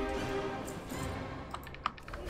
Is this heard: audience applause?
no